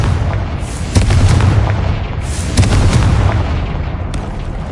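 Fire blast spell explosions going off in the Hogwarts Legacy video game: two heavy booming blasts about a second and a half apart, each with a rumbling tail, over continuous low battle rumble and debris noise.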